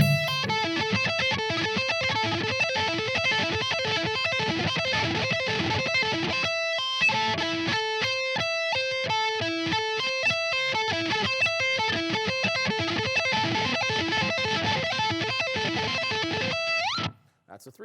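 Electric guitar sweep picking at low volume, fast arpeggiated three- and five-string shapes rippling up and down in a steady stream of clean, lightly distorted notes, played alone and ending abruptly.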